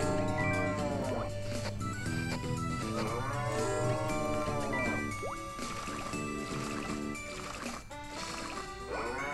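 A cow moos several times in the farming video game Story of Seasons: Trio of Towns, its drawn-out calls rising and falling over continuous cheerful background music.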